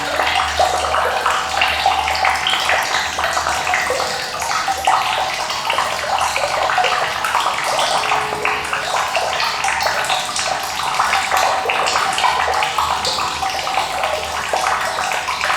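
Water rushing and swirling in a whirlpool inside a plugged manhole while a sewer snake clears it, a loud, continuous, churning wash that holds steady throughout.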